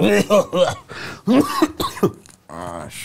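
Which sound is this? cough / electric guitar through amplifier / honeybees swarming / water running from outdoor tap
cough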